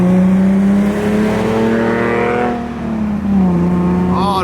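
Nissan 370Z Nismo with a muffler delete revving loud and close, a deep steady exhaust note that climbs and falls over several seconds before rising again.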